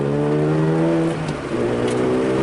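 A Mazda FD RX-7 engine drones steadily under throttle while drifting at a driver education day, a loud, close and sustained rotary hum that dips briefly before picking up again.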